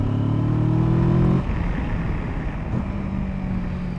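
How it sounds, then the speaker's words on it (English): A Kawasaki Versys 650 motorcycle engine holds a steady droning rev with a strong harmonic hum for over a second, then drops to a rougher, lower running note, close and loud, with no talk. "It makes race bike noises."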